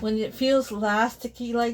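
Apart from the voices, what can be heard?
No distinct noise like a dog, phone or traffic.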